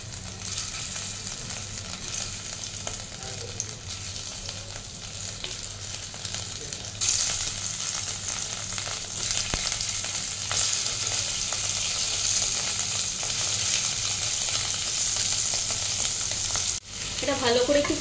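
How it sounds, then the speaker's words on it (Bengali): Potatoes dropped one by one into hot oil for Bengali alur dom, a close, steady sizzling hiss that jumps louder partway through as more pieces go in, with faint stirring scrapes. "তেলটা আমার গরম হয়ে গেছে, আমি আলুগুলো ছেড়ে দিচ্ছি একে একে।"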